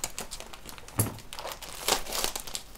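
Plastic wrapping of a mailed package being crinkled and torn open by hand, close and fairly loud, a string of irregular rustles and crackles with a few sharper bursts.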